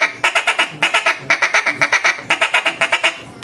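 A Queen B.I.G. duck call blown in a rapid, rhythmic series of loud, close quacks, the pitch shifting between two tones so it mimics two separate ducks calling together.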